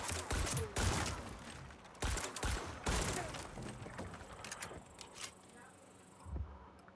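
Heavy gunfire in Dying Light the Beast comes in loud, dense bursts early on, then fades into scattered crashes and quieter rumble, with a voice talking over parts of it.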